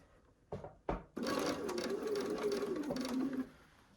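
A sewing machine stitches a piece of a Southwest-style blanket, two brief needle taps followed by a steady mechanical whirring run of a couple of seconds, close and fairly quiet.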